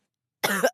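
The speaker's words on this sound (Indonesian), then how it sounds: "Kuga terbatuk-batuk karena sebagian airnya masuk ke mulut." A single short, harsh cough bursts out after silence, close and clear, like someone choking on water that got into the mouth after being splashed awake.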